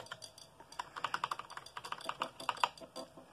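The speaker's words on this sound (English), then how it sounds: "Whenever I want to use my keyboard" Typing on a computer keyboard in a bedroom: a quick, irregular run of crisp key clicks close by, dozens of taps with small pauses between bursts, heard alone without talk.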